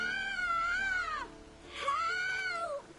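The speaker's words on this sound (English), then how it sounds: "Hear that? Sounds like a kid." An eerie, child-like wailing cry from The Witcher 3 game rises and falls in two long drawn-out calls, clear and fairly close against a low ambient background.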